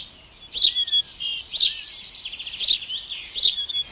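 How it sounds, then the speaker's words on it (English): Sparrow chirping in four short, bright bursts spaced about a second apart, close and clear against a quiet background. "sparrow"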